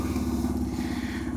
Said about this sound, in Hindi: इसे कोल्ड स्टार्ट कर लेते हैं।